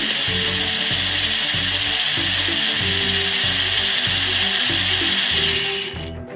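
A Play-Doh Dr. Drill 'n Fill toy dentist drill gives a loud, continuous high-pitched whine with a steady rhythmic pulsing underneath, grinding on for several seconds before tapering off at the end.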